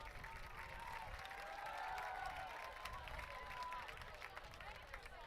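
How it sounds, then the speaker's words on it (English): Crowd at a high school football homecoming game applauding in an outdoor stadium, a broad wash of clapping and cheering heard from a distance and fairly faint, with a voice talking over it. "Big round of applause, ladies and gentlemen."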